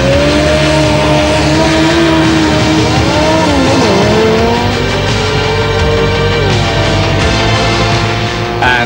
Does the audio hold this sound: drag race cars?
yes